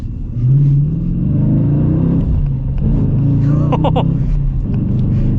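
A 2023 Dodge Challenger R/T with a V8 and manual transmission rumbles loudly, its deep engine note swelling and dropping through a couple of revs, heard from inside the car.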